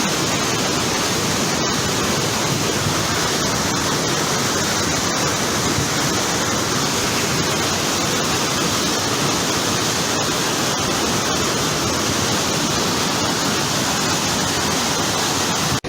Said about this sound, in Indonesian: Air sungai meluap gara-gara Gunung Salak sedang ada pengikisan